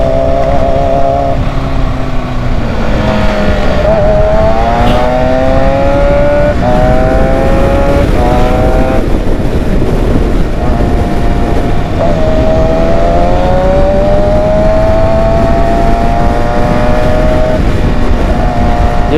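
Kawasaki ZX6R and Honda CBR600 motorcycles race hard, their loud high-revving engines rising and falling through gear shifts close by, several bikes overlapping in a continuous roar without any talk.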